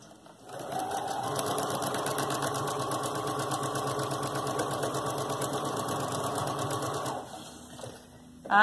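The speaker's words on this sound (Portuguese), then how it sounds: "vou passar uma costura reta aqui na beiradinha" A sewing machine runs continuously for about six seconds, stitching a straight seam along the edge of fabric with pink thread, a steady rapid mechanical whir that starts and stops cleanly, heard alone and up close.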